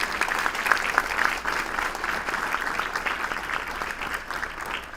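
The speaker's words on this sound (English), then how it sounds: "If our sponsors would please stand for a round of applause to show our gratitude for their support." An audience at a health care costs discussion event gives a sustained round of applause for standing sponsors, a dense, even wash of clapping from a room full of people with no talking over it.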